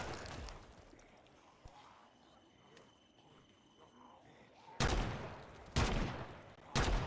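Three loud, evenly spaced shots from a slow-firing Ruger .308 rifle in a video game, each with a sharp crack and a trailing echo, following a stretch of quiet ambient noise.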